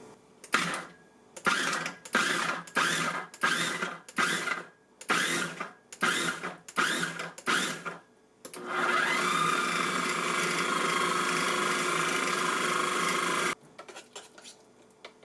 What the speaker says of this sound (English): pulse your cooked meats, stews, curries, whatever it is, a few times, and then just process on high